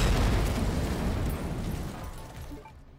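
A single gunshot in the survival-horror game Resident Evil 2 Remake, a loud close blast with a broad roaring tail that fades out over a few seconds, with no talking.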